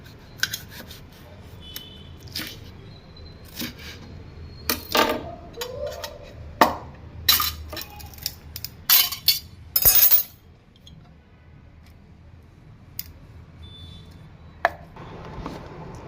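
A knife chops two tomatoes into pieces on a board for a paste, giving a run of sharp, uneven cuts and clicks up close, busiest midway, then only a few sparse taps near the end.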